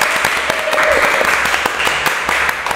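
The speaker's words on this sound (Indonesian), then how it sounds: "Oke, tepuk tangan dong." Audience applause at a campus talk show, steady crowd clapping with a few sharp individual claps standing out, loud and continuous throughout.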